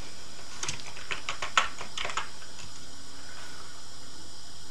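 Typing on a computer keyboard: a short burst of quick, crisp key clicks over about two seconds, close and moderately loud, then fading to a steady background hiss with no talking.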